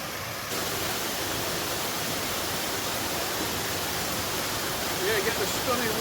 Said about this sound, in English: A bit further again we reach our next waterfall.